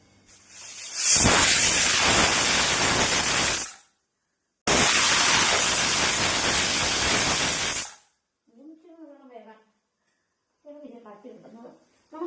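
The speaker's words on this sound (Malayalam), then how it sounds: "മീഡിയം ഫ്ലെയിമേ രണ്ട് വിസിൽ അടുപ്പിക്കുക" Pressure cooker on medium flame venting steam while cooking stew, giving two loud sustained hissing bursts of about three seconds each, separated by a short pause, then followed by quiet talking.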